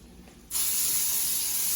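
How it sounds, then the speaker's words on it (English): Beyond Meat burger balls dropped into a hot pan burst into a sudden loud sizzle that holds steady and bright after a quiet start, with no talk. "See that nice little sizzle?"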